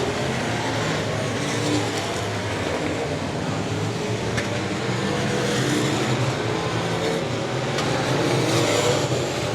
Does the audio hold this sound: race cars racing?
yes